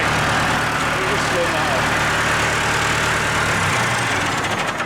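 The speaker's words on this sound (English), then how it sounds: "this tractor's revving so high, or it's not idling very well" A tractor engine runs steadily at high revs, not idling well, while spreading fertiliser, loud and constant throughout, with a dense mechanical drone and a voice faintly underneath.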